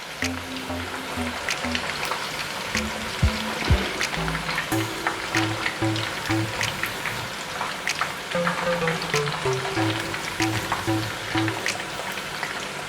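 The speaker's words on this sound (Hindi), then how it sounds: "ज़्यादा देर भी आपने नहीं इन्हें फ्राई करना ताकि जल ना जाए" Chicken pakora deep-frying in hot oil, a steady close crackling sizzle with scattered pops running throughout, with no talking.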